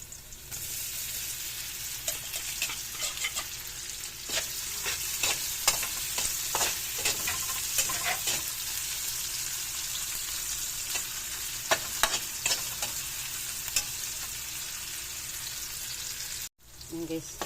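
Longganisa sausage sizzles steadily in a pan while being stirred, with a constant frying hiss and scattered scraping clicks from the utensil; brief pause near the end.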